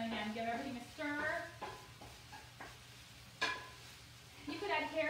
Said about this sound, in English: So I'm just going to, again, give everything a stir.